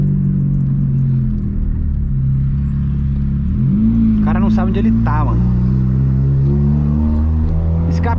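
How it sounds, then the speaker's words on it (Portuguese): A loud exhaust from a 1999 VW Gol G2 with a 1.0 8V engine drones steadily and closely while driving, holding a deep low rumble throughout. Someone talks over it. "Escape do Gol, galera."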